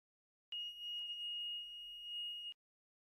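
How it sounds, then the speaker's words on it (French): A single sharp, high-pitched electronic buzzer tone from a simple light-sensitive alarm circuit sounds steadily for about two seconds, then cuts off, with silence before and after. "Si vous remplacez la LED par un buzzer, nous avons créé une alarme simple et sensible à la lumière."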